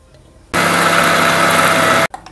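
A kitchen mixer grinder crushes fried onion, garlic and green chillies, a loud steady whirring roar that starts abruptly, runs for about a second and a half, then cuts off.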